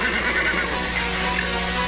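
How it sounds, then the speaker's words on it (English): A horse neighs in a long, loud, close whinny that fills the short clip, with no voices over it. "I must feed the horse. He always reminds me when I forget."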